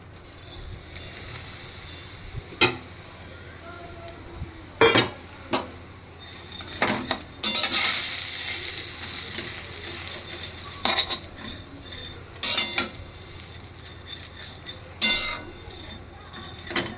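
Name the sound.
vermicelli stirred in ghee in a pan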